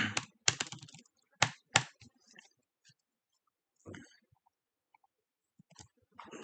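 Keyboard typing while coding a Django e-commerce project: bursts of loud, close key clicks in quick runs, then sparse isolated taps separated by quiet gaps.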